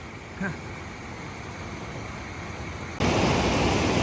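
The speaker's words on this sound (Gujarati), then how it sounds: "જોવો કેટલું સ્પીડમાં ને કેટલું પાણી આવ્યું" Water from an overflowing dam rushing fast, a broad steady roar that jumps sharply louder partway through as if nearer the flow, with a short faint voice sound early on.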